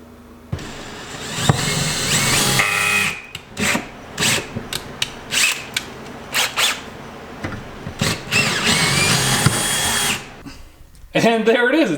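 A power drill drives bolts to fasten a lathe to a workbench in repeated short whirring bursts, with rubbing and scraping between them and voices talking throughout.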